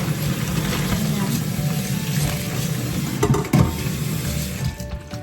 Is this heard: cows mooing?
no